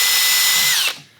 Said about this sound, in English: you kind of have to hold it with one hand, pre-drill with the other